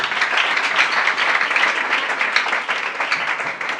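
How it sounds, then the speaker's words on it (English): A church congregation claps together at a thanksgiving service held in honour of a late deaconess, producing dense, continuous applause that fills the room with no talking over it. "Sit down and clap for Jesus."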